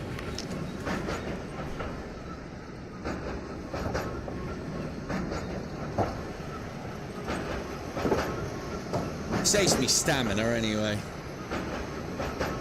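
In the video game Into the Radius, a mimic train rolls along rails with steady clattering and rumble and a brief high screech of wheels, while a person talks over it.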